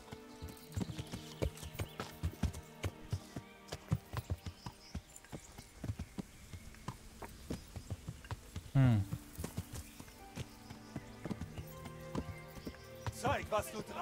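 A horse's hooves clip-clop in a steady rhythm in the medieval video game Kingdom Come: Deliverance, mixed with game music and a brief whinny, while someone talks over it.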